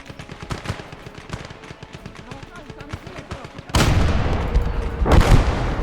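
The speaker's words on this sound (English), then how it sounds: "Got a machine gun coming." Rapid machine gun bursts crackle in a trench battle in a war video game, dense rattling fire followed by heavy, louder volleys and booms near the end, with no clear talk.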